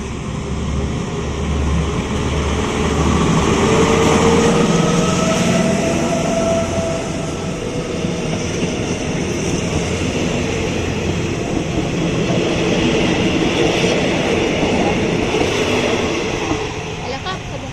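An Alstom diesel locomotive pulling a local passenger train on Thailand's northeastern line rumbles steadily as it rolls past, a continuous loud mechanical roar with a brief horn-like tone, no clear talk.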